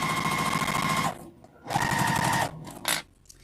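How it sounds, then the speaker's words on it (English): A home sewing machine stitches along a fabric zipper pouch in two steady whirring bursts separated by short pauses, close and clear, followed by a brief clunk. "I'm just going to sew right along"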